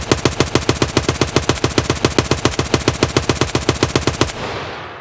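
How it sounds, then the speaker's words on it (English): Sustained full-auto burst from an RPK rifle in Escape From Tarkov, roughly thirty rapid evenly spaced loud shots over about four seconds, then the burst stops and a reverberant echo tails off. "So let's switch over to the RPK. Okay, here's what we'll do. We'll shoot at that house."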